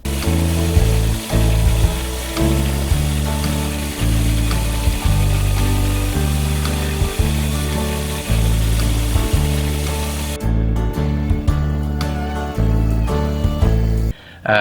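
Steady mechanical grinding from a belt grinder working the flat bevels of small neck knives, running loud and continuous with a constant low hum, stretching the whole way with brief dips and no talk.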